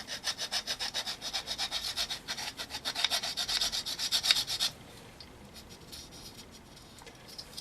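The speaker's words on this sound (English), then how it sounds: "So I'm going to sand that down a little bit more" Sandpaper rubs back and forth on a repaired hedge trimmer part in quick, rhythmic strokes, close and scratchy for several seconds before stopping, leaving faint room noise.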